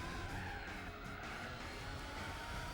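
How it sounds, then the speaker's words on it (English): Tires on a GTR-LM concept race car skid and squeal in Gran Turismo 4, a continuous screech over steady engine drone that lasts the whole stretch, fairly quiet and with no talking. "The GTR-LM concept race car."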